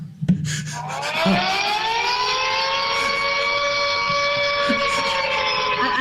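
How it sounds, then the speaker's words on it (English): An air raid siren wails, rising and then holding a long, steady, loud tone with layered harmonics, sounding alone without any voices. "if you hear an air raid siren in the background"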